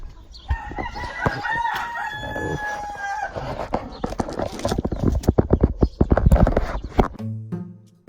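Rooster crowing among clucking chickens in a farm yard during morning chores, a long harmonic crow early on followed by rapid scratching and clattering, with a faint low voice briefly at the end.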